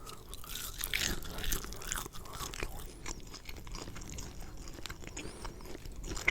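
Close, crunchy chewing and biting on slow-cooked, wood-smoked barbecue meat in a mukbang, with steady mouth noises and soft scraping over several seconds and no talking.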